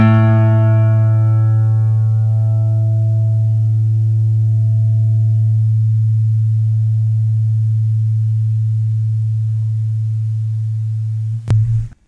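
A guitar's open fifth string, the low A, is plucked once and rings out long and clear, slowly fading before being muted with a soft thump at the end.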